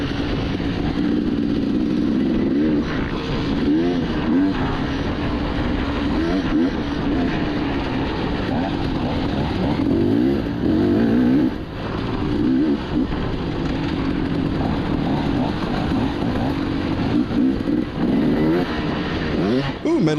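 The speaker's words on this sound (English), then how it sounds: "let that 2-stroke sing" Two-stroke dirt bike screaming through a hare scramble race course, its high engine note rising and falling steadily over twenty seconds, loud and close with wind buffeting.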